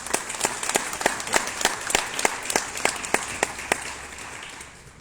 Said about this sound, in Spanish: Un fuerte aplauso, por favor, al doctor Sareli Martínez Mendoza.